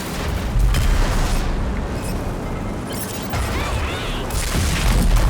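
Missile explosions in the shooter game Rage 2, deep booming blasts and rumbling detonations filling the whole stretch loudly with a continuous roar of combat.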